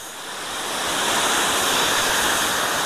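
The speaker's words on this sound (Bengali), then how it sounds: "দেখুন কত বড় একটা ঝর্ণা" A large waterfall near Langurdang in Darjeeling roars in a dense, steady rush of falling water that swells slightly at the start and then holds loud and unbroken, with no voices.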